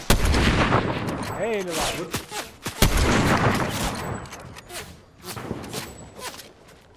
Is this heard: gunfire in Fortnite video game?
yes